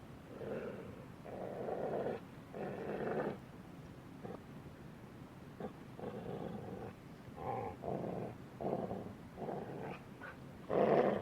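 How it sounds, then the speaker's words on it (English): Nine huge dogs growl and snarl in low, rumbling bursts that come in uneven waves, several growls overlapping at close range with short pauses between them. "his 9 huge dogs frisking around him and uttering growls that sent shivers down all the animal spines"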